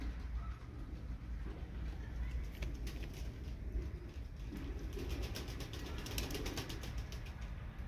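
Soft, low cooing of Malatya tumbler pigeons rises and falls repeatedly against a steady background hum, with faint flapping or rustling in the middle.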